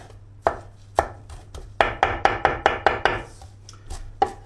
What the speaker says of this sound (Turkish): Maydanozu çok güzel yıkadım, ettim. Şöyle doğruyoruz. Ufak ufak, küçük küçük.